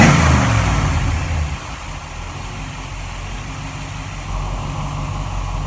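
A 1947 Ford street rod engine with a Holley "whistler" carburetor runs loud and close, a strong rumble easing from a higher rev into a steady idle.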